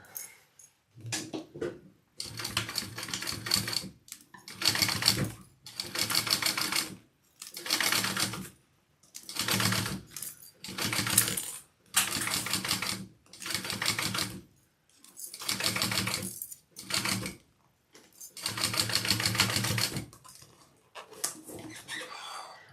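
Sewing machine basting a seam on fabric for a custom AnnaBelle garment, running in repeated short bursts of stitching with brief pauses between them, close and moderately loud with no talking.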